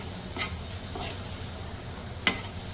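Garlic and finely cut green chillies frying in a pan for KFC-style Arabian chicken rice, a soft low sizzle broken by a few brief stirring scrapes, one sharper clink near the end.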